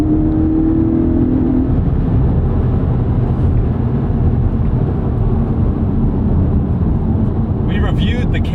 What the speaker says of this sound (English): These delicious blips.